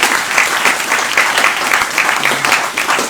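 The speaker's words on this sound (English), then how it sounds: "maybe one last round of applause for Nathan." A crowd at a design-thinking meetup gives a sustained round of applause, dense and even clapping from many hands filling the whole stretch at close range.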